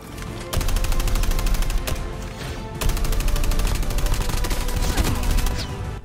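Rapid automatic gunfire in the mobile shooter Call of Duty Mobile, dense bursts of fast repeating shots with a brief pause near two seconds before the firing resumes loudly.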